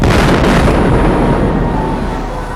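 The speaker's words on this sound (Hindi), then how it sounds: "उसी वक्त एक भयानक धमाका होता है।" A loud explosion at Friday prayers in Tehran: a dense, sustained roar and rumble that hangs heavily over the whole stretch, slowly easing in loudness.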